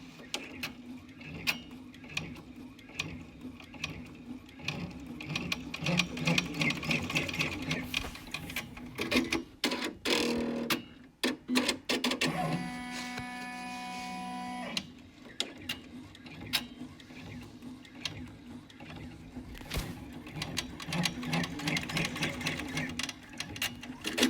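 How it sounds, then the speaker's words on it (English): An embroidery machine stitches a pleated in-the-hoop fabric face mask, its needle clattering in fast rhythmic bursts with brief pauses and steadier humming runs, close and loud throughout. "stitch those 2 little stitches again"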